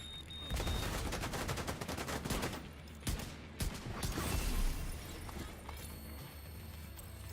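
Gunfire in The Division 2, a fast rattling burst of shots up close followed by a few sharper single cracks and a lingering muffled rumble.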